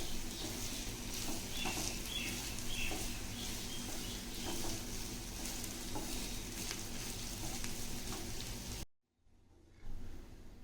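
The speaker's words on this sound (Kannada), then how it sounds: "ಚೆನ್ನಾಗಿ ಫ್ರೈ ಮಾಡ್ಕೊಳ್ಳಿ ಈ ಥರ ಹೈ ಫ್ಲೇಮಲ್ಲಿ" Egg fried rice tossed and stirred in a pan over a high flame gives a loud, steady sizzle with scraping stir noises, cutting to near silence briefly before the frying resumes.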